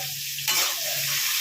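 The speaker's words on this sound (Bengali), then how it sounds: "এইভাবে আমি পটলটাকে ভেজে নিচ্ছি" Pointed gourd (potol) fries in a pan with a little turmeric, a quiet hum jumping into a loud, close sizzle and stirring rush midway through the brief moment.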